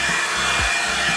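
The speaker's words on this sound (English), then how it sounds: "I love keeping my dryer setting on low." Revlon blow dryer brush running on its low setting, a steady close whirring hum with airflow hiss that holds level throughout, with brief low thumps as the brush moves through natural hair.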